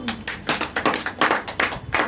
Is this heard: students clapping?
yes